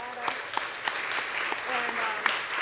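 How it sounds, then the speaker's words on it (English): Audience applause for a performer after a cantata at a women's choral concert, steady clapping across the room with scattered louder claps, under some background voices. "And Rachel Thompson, I give her a round of applause for the cantata."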